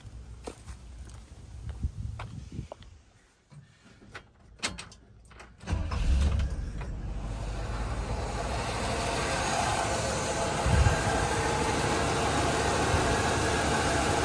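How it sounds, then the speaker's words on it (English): Classic GM car, Chevy, Olds or Pontiac, with ignition points and timing being set: faint clicks and handling noises, then the engine cranks and starts about halfway through and settles into a steady, loud idle. "So let's start the car up and you can see what I mean."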